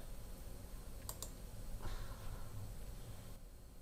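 A computer mouse clicks twice in quick succession while a Google account sign-up form is being filled in, with faint room hiss before and after.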